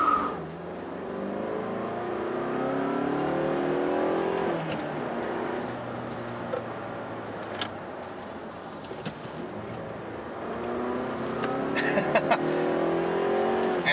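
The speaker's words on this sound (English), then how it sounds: "the way the engine revs up" A 2017 Mazda3 GT with a six-speed manual revs up while driving, engine note rising and falling through gears with a loud, close rasp, occasional tire noise and no talk.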